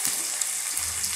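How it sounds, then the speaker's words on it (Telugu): Onion pieces frying in oil in a kadai, a steady close sizzle with faint crackle running through a short stretch, with no talking. "కళాయిలో కొంచెం నూనె ఉంచుకొని ఉల్లిపాయ ముక్కలు వేసుకోవాలి"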